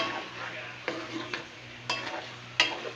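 A Japanese udon noodle dish being stirred in a pan after adding pepper, with a soft sizzle under rhythmic scraping strokes and a few sharp utensil clinks against the pan, close and fairly quiet.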